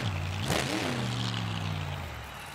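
A monster truck engine revs at a freestyle event, one loud rising rev that settles into a sustained droning roar heard from a distance across the arena.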